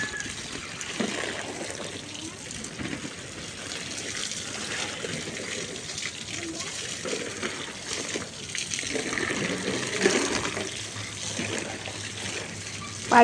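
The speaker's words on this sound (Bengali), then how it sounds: "সেই জন্য পাইপ দিয়ে পানি দিতে হয়" A hose pipe sprays water over flowering garden plants on a rooftop in summer heat, making a steady, continuous gushing splash that swells slightly in places.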